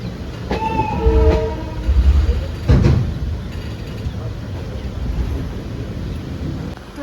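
A train departing a station: low rumbling engine and rolling wagons with squealing tonal brake or wheel whines, heavy clunks of couplings, and a steady mechanical drone as it pulls away.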